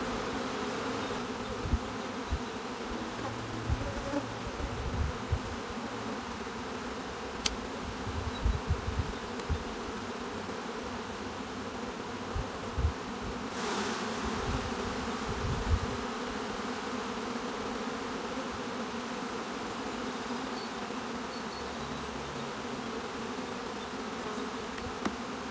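Honey bees buzzing around an open beehive in a beeyard, a dense, continuous drone of many wings that stays steady throughout, with occasional faint clicks and handling sounds close by and no talking.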